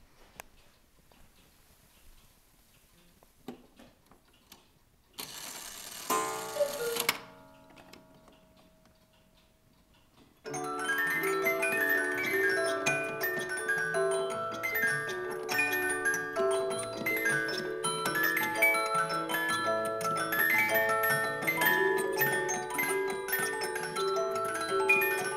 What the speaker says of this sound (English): we're going to set the thing off